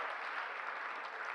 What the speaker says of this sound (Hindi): एक बार तालियां बजाओ जरा जोरदार